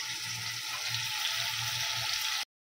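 Finely chopped sour tomatoes drop into a hot pan of potato and bean curry oil, giving a continuous close, loud frying sizzle with faint stirring that stops abruptly.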